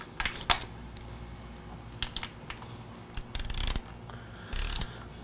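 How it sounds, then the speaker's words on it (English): A hand ratchet tightens the engine case cover bolts on a Yamaha R3 motorcycle, giving short bursts of quick clicking separated by pauses, near and fairly quiet. "we need to tighten up the rest of these bolts to 10 Newton meters. And we'll do this in a crisscross pattern"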